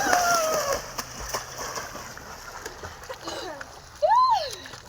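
Children splash in water, with a few sloshing bursts at the start and a louder splash near the end, mixed with bird chirps and a rising-falling whistle-like sound.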